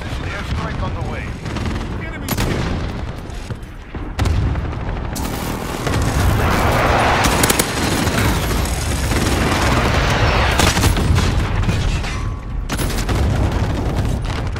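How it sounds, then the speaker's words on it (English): Airstrike and gunfire in Call of Duty Modern Warfare, a dense barrage of booming explosions and rapid shots, loud and continuous over the whole stretch. "Friendly precision airstrike on the way."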